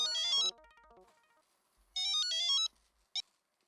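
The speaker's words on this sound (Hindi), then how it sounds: "अब्दुल को फोन लगाता हूँ।" A phone ringtone plays a melodic electronic ring, pauses, rings again, then gives a short final chirp before cutting off; no talking.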